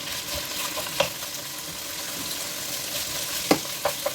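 Pork belly frying in hot grapeseed oil, a steady soft sizzle with occasional louder crackles and pops close by.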